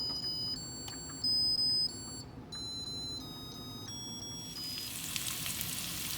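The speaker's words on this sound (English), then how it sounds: "I started the onions with some olive oil and then add my green peppers" Onions and green peppers sizzle steadily in olive oil in a pan, a close, continuous frying hiss, with a few beeps from a kitchen appliance and a brighter hiss near the end.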